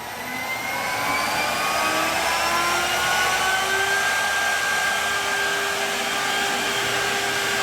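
A CNC machine spindle spools up from rest into a loud, steady high whine, with tones that climb over the first few seconds, then hold as a constant rushing hum.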